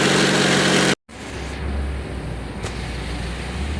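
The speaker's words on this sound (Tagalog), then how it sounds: "Check natin yung engine vibration niya kung ano yung problema." A 2011 Hyundai Sonata engine idles around 1000 rpm with heavy vibration from a loose engine bracket and a broken stud, a steady close low rumble broken by a brief cut.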